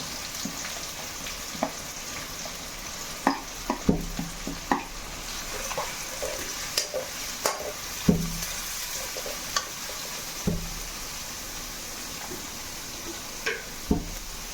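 Sliced onion and green chillies fry in a pan for Kerala-style chicken curry, a steady sizzle broken by scattered sharp clinks and knocks of a utensil stirring against the pan.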